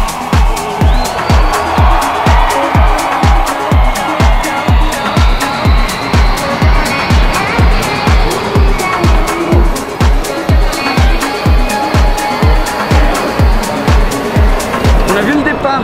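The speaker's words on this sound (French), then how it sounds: "on va regarder le départ de la course dans le box de Porsche" Race cars roaring past in a rapid, continuous stream at the start of a race in Mexico, heard loud and close from the Porsche pit box, engines whooshing by one after another with no pause.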